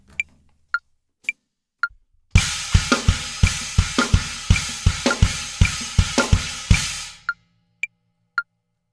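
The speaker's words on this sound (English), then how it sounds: "sort of stab at those chinas with that kick," Drum kit plays a 2-against-3 groove with the kick stabbing alongside china cymbals while the snare holds a backbeat. A dense, loud run of regular hits sounds alone, bracketed by sparse clicks.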